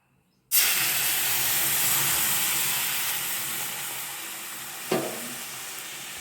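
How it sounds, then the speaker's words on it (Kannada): Milk poured into roasted semolina in a hot pan while making mango kesari bath gives a sudden loud, steady sizzling hiss that fades slowly over several seconds, with a brief stir or splash near the end. "ರವೆಯ ಬಣ್ಣ ಸ್ವಲ್ಪ ಚೇಂಜ್ ಆದ ನಂತರ ಒಂದು ಲೋಟ ಹಾಲನ್ನು ಹಾಕಿ"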